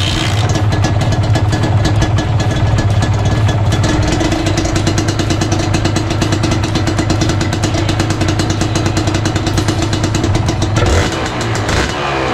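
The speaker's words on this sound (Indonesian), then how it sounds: "Start panaskan dulu motor ni, bawa motor ni pusing-pusing kampung." A Kawasaki RR150 two-stroke motorcycle engine warms up, running loud and steady with a dense, buzzy idle close by, shifting slightly near the end.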